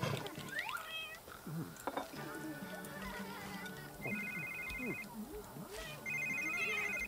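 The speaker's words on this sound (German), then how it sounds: "Oh Gott, Telefon." A telephone rings in The Sims 3, repeated electronic bursts around seconds 4–5 and 6–7 over a busy game soundtrack with cat meows and other effects, fairly loud and clear.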